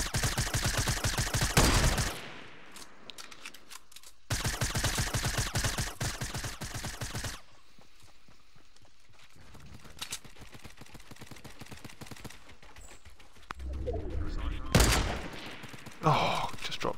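Rapid bursts of Fortnite Battle Royale gunfire, likely SMG spray, crackle in several loud volleys separated by short quieter gaps, with game effects and some background noise between them.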